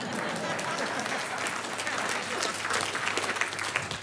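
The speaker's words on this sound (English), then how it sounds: "Around the world, people clap when I say win the game." An audience claps, a dense, steady wash of many hands at a moderate distance that lasts about four seconds.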